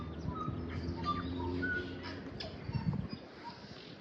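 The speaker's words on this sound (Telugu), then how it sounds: "ఈ కార్నర్లో మీకు వినిపించింది బర్డ్స్ మొత్తం." Birds call and chirp from a park corner in New Zealand, a few brief tweets scattered over steady low background noise, moderately distant and fairly faint.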